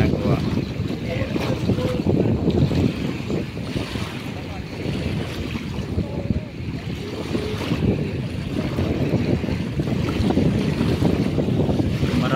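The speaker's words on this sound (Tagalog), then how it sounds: "Sarap dito, mahangin." Strong wind gusting across the Manila Bay baywalk near the water, a constant loud rumbling buffet on the microphone with waves faintly beneath and voices nearby.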